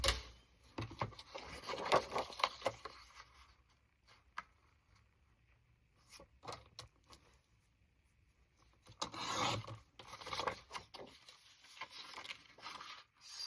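Scissors or a blade cutting paper to make a roughly 5 1/4 inch pocket for a handmade strawberry journal; two bursts of close, quiet rasping and scraping separated by near silence, with a few soft taps between them.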